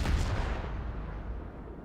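Heavy naval gunfire from battleships in World of Warships, a Montana and a Bismarck shelling a Moskva, rolls in as a deep, loud boom that decays across the clip.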